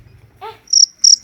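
Crickets at a cricket farm chirp in two short, bright, high-pitched trills close by, with a brief unrelated squeak just before them.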